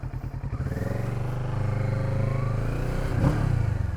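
A 2019 Kawasaki Z650 motorcycle being ridden, its engine rumbling steadily close up with a rising, accelerating drone and a brief louder surge near the end.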